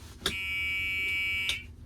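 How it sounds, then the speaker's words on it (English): A single sustained electronic buzzer tone from a Club Car Precedent golf cart, a non-original buzzer, lasting just over a second, bracketed by two sharp clicks, with quiet background noise. "And that buzzer, by the way, is not original."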